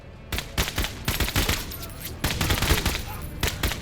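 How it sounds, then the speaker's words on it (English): Rapid bursts of gunfire crackle in the tactical video game MENACE as troops shoot at scavengers, a string of loud, sharp volleys and individual shots in uneven clusters. "Wow, very good shooting, Sasha"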